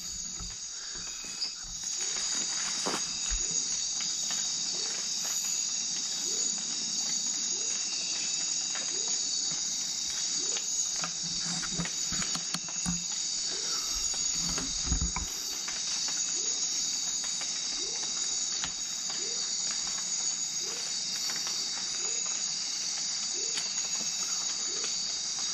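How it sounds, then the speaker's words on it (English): Steady rain hisses over a Costa Rican jungle night ambience with constant insect trilling and faint patter, holding even and continuous throughout. "raining, as you can tell"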